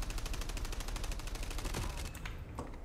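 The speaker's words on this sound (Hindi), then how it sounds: "बहुत दूर से हम फायरिंग कर रहे हैं" Long-range gunfire in Call of Duty Mobile rattles out as rapid, evenly spaced automatic bursts throughout, steady and fairly distant, with a couple of sharper shots near the end.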